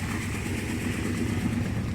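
A 1966 Dodge Coronet's engine running close by with a steady, throaty low rumble and slight rhythmic pulsing, held at a fairly even rev with no talking.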